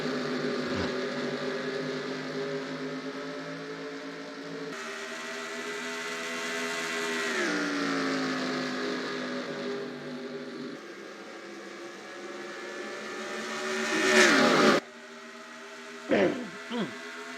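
Race cars in NASCAR Racing 2003 roar off at the start of a race at Darlington, a dense layered engine drone with shifting pitches and rising revs, fairly loud and steady, with brief sharper bursts near the end.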